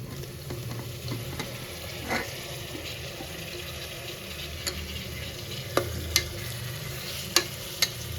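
Tomatoes sauté in a pan for chicken kurma, giving a continuous soft sizzle and frying hiss with occasional sharp clicks and taps from stirring, especially toward the end.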